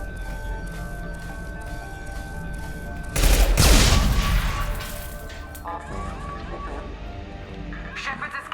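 Gunfire in the video game Mass Effect 2, a loud burst of shots crashing over steady game background noise, followed by quieter combat sounds, with a voice talking over it.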